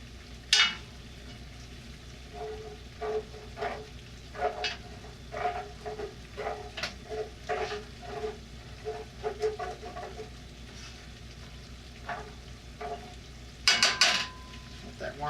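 Marinara sauce with vegetable broth simmering in a pan, with soft steady sizzling and bubbling broken by frequent utensil scrapes and stirring clinks, plus a louder clatter near the end.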